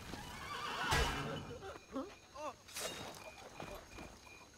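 A horse in Assassin's Creed II whinnies loudly with a descending, quavering neigh, followed by soft snorts and light hoof clops in a quiet game scene.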